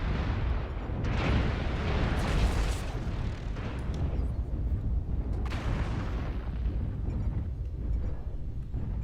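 Airstrike explosions in MechWarrior Online: a dense, continuous barrage of booming blasts and rumbling bursts, loud and close, with sharp cracks standing out early on and around the middle, no talk over it.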